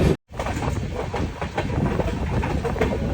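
The Amaravathi Intercity Express curves into Ongole station. A steady loud rumble of rolling wheels fills the whole stretch, with faint rhythmic clatter over rail joints and no voices.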